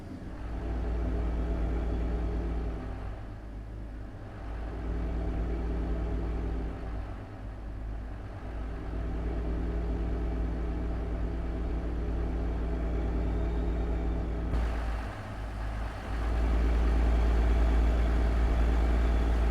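A deep truck engine, a Caterpillar C-15 with an Allison automatic in American Truck Simulator, rumbles steadily, its note dipping and rising as it engine-brakes and shifts down, with a heavier surge near the end.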